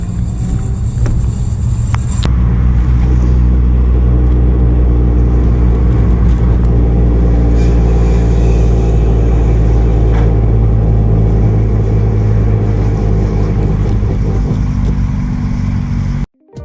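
Suzuki Swift Sport with its exhaust backbox deleted, a loud, steady low rumble with droning tones heard from close by, continuous and alone for most of the stretch before cutting off.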